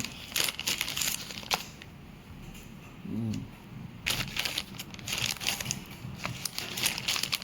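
Plastic packaging of a Flipkart parcel crinkles and rustles as it is cut open with scissors, with brief snips and crackles close to the microphone.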